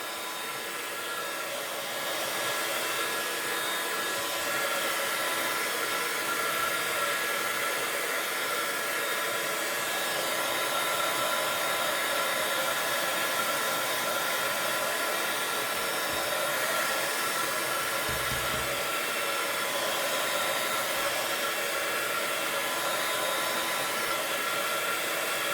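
A hair dryer blows steadily on gel medium brushed onto an art journal page, a continuous airy whir that stays constant and fairly close throughout, with no talking.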